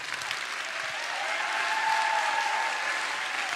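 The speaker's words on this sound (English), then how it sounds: "You should go ahead and clap right there, even if your life is not perfect." Live audience at a motivational talk applauding, a dense, sustained burst of clapping that swells slightly midway and holds steady to the end.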